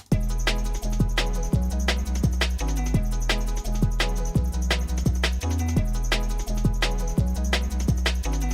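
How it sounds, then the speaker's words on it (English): A dubwise drum and bass track plays with crisp, fast, regular drum hits over a deep, sustained, pulsing bassline, loud and alone without talk. "if we play it with the drums and bass, it sounds like this"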